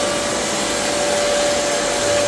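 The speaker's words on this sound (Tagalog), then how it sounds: "Vacuum siya pati yung mga carpet." A vacuum cleaner runs on household carpet, giving a continuous loud, close motor drone with a steady whining tone and no break throughout.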